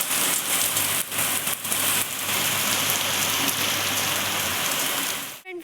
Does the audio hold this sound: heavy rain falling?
yes